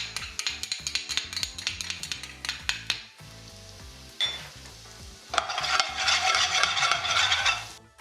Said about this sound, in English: I'm just wanting to fry off the rawness from the garlic and the ginger